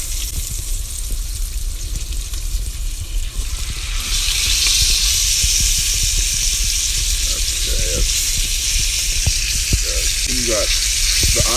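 Steak sizzles in olive oil under a press iron, a steady close hiss that grows louder partway through, with occasional light scrapes and clinks of utensils.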